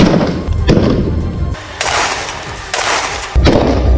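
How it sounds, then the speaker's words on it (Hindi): Soldiers and Hamas fighters exchange gunfire in Gaza, several loud, sharp bursts of shots cracking close together in separate volleys. "इस दौरान गोलानी ब्रिगेड की हमास लड़ाकों से मुठभेड़ भी हुई और दोनों तरफ से कई राउंड फायरिंग हुई।"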